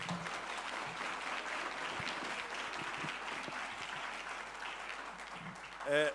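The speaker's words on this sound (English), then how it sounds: "Can we please give another round of applause?" Sustained audience applause filling a conference hall at a future-of-work dialogue session, steady dense clapping throughout with a brief voice near the end.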